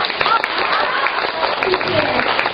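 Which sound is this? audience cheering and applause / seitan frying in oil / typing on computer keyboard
audience cheering and applause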